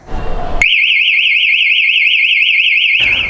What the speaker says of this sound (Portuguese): ainda a sirene que vem junto com o alarme, que faz um barulho bem forte